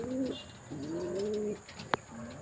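Racing pigeons coo in soft, repeated throaty phrases close by during a derby, with a sharp click partway through and a steady faint hum underneath.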